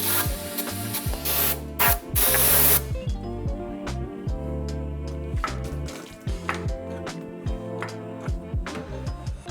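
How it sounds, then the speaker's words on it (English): Brake cleaner is sprayed into a motorcycle fork leg on a Dyna in loud hissing bursts. A longer blast is followed by repeated short spurts with rattling and clattering in between. "We're gonna give it a little shot of brake cleaner just to rinse the residue out of the leg."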